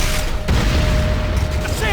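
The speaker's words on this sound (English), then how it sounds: "SAM site destroyed" A SAM site blowing up in the Command & Conquer Renegade video game: a sudden loud burst of explosion noise followed by a rumbling, mechanical roar, with a game voice speaking over it.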